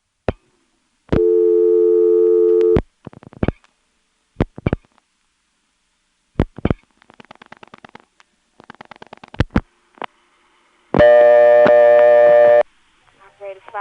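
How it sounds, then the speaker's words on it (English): Register sender in a senderized step-by-step exchange dialing digits: sustained tones alternate with bursts of rapid clicking pulses, separated by short silences and sharp clunks, loud and close. "we'll let the register sender dial 87, plus maybe some additional digits"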